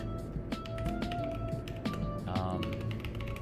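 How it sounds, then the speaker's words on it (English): Someone types on a computer keyboard, retyping game code, with quick irregular clicks and taps close up over a low, steady background hum. "I'm retyping everything just to get a feel for how things used to work as well."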